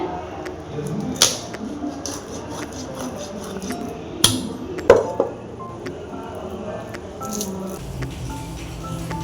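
Fish being cut up with a knife outdoors during heavy rain, scattered sharp chops and clinks against a board with several louder knocks around the middle, over a constant wash of rain noise.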